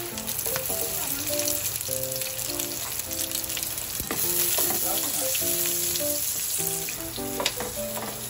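String beans sautéing in a pan for ginisang sitaw give a steady, close frying sizzle with crackling pops and occasional stirring scrapes that run unbroken for the whole stretch, with a soft melodic tone line underneath and no talking.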